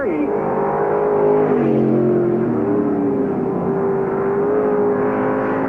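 Race cars roaring around Knox County Raceway during the Barb Heinz Memorial, a loud continuous engine drone rising and falling as cars battle down the back straightaway, with an announcer's voice over the public address mixed in.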